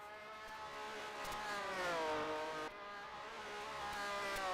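A race car engine roars at high revs from a racing video game of the 1997 Bathurst 1000, its harmonic whine rising and falling through gear changes as the car runs close to the wall, loud and steady throughout.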